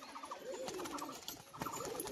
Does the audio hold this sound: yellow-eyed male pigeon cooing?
yes